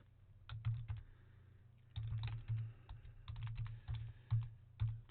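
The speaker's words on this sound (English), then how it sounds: "It's funny how the moment that I start typing, I can't talk at the same time." Typing on a computer keyboard, with steady clusters of soft, close key clicks in uneven bursts and a short pause near the start, quiet and with no talking.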